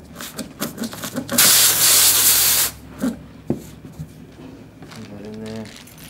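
A reamer tool is pushed through a puncture hole in a tubeless motorcycle tire with a harsh, loud rasping hiss of about a second, set between clicks and handling sounds, while people talk nearby.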